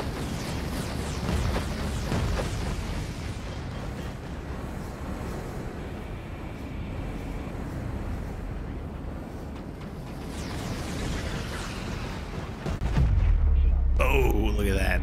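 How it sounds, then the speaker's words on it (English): A ship being shot down and exploding in the video game Stranded: Alien Dawn: sustained heavy rumbling blasts and crackling fire for most of the stretch, ending with a loud, deep boom near the close, with talk over it. "Oh, we're getting shot down."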